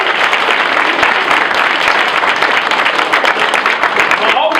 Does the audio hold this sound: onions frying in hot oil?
no